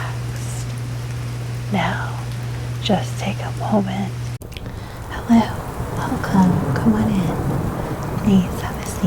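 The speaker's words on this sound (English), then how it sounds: "sorry about the rain outside" Steady rain with low thunder rumbling outside, a continuous wash that grows louder in the second half under a soft, close voice speaking.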